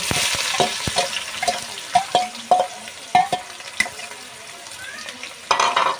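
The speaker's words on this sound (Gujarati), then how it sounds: "હવે આપણે આને ઘડી સડવા દઈશું તેલમાં" Chopped onions and whole spices frying in oil for a Gujarati mutton curry, with a steady sizzle broken by sharp stirring clinks and scrapes of a utensil in the pan, close and moderately loud, with no talking.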